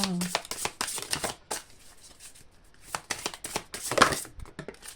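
A deck of tarot cards is shuffled by hand with a rapid, papery riffling that comes in uneven spurts, close and fairly soft, while a person talks over it.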